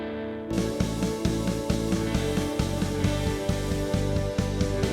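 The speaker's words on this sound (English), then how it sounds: "This particular sound is based on the Vox amp, and it's just the natural bite and distortion that happens within the amp" Electric guitar chords through a Vox amp with natural bite and distortion, strummed in a steady rhythmic pattern, loud and close, with no voices over the playing.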